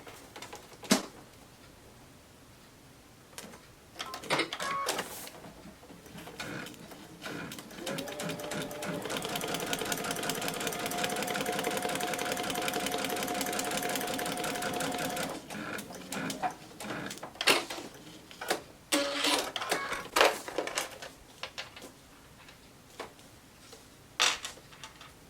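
A sewing machine stitches two quilt pieces in a continuous mechanical whir lasting several seconds, framed by scattered clicks and handling noises before and after.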